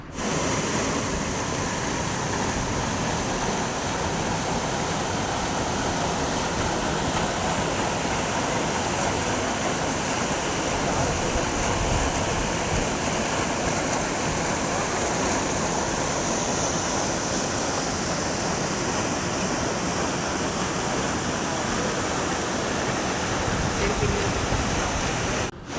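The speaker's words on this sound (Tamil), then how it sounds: "பிக்கனப்பள்ளி ஃபால்ஸ் பார்க்குறதுக்கு எப்படி இருக்குன்னு சொல்லி ஒரு வீடியோ கிளிப்பை எடுத்திருக்கேன்." Bikkanapalli waterfall near Krishnagiri pours continuously, a loud, dense roar of falling water heard up close, steady and unbroken for nearly half a minute, alone without talk.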